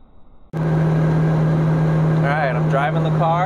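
A car with a swapped CD009 transmission pulls onto a highway, steady loud engine drone and road noise starting abruptly and holding, with a constant low hum and brief rising whines near the end.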